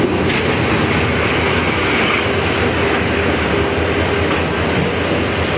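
A shuttle train running on rails between Sholoshahar station and Chittagong University, a steady, loud rumble of wheels and carriages with continuous rattling, heard from on board with no talk.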